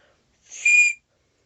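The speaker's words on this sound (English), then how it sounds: "this counts as a whistle." A single sharp, shrill blast from a survival whistle, close and loud, lasting about half a second before cutting off into silence.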